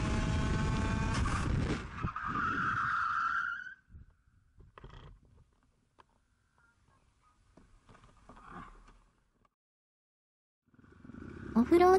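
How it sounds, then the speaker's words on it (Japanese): A race car roars loudly and then skids as it suddenly spins after an engine blow, and the noise cuts off into near silence with faint scattered sounds before a loud burst returns at the end. "突然のエンジンブローでストレートなのにいきなりスピン。"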